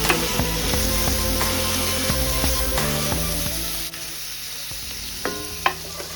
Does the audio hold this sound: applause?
no